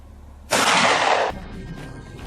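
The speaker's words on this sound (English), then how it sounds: "Gunfire erupted, echoing through the forest." A single loud gunshot blast in a forest that lingers for under a second, then drops into a quieter rumbling echo.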